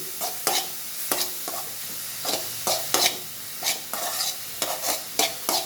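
Carrot rice with ground pepper is stirred in a pan, with a spatula scraping in regular rhythmic strokes over a soft ongoing sizzle, close and clear.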